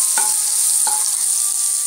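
Butter melting in a hot pan for a malai kofta gravy, giving a steady broadband sizzle with two brief soft stirring scrapes, close and moderately loud, with no voices.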